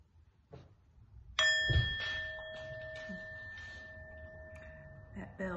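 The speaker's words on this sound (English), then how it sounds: "That bell startles my dog." A mindfulness bell is struck once, sharp and close, and its clear metallic tone rings on and slowly decays for several seconds while soft voices murmur faintly underneath.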